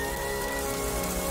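Steady rain falls continuously in a scene from the 1991 animated film Rock-a-Doodle, a dense, even wash of drops with low rumbling underneath and no voices.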